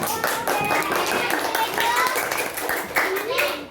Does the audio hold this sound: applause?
yes